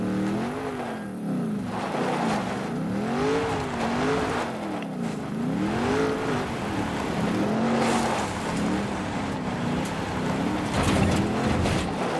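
A vehicle in the video game Far Cry New Dawn drives along with its engine droning and rising and falling in pitch as it revs, moderately loud and steady throughout.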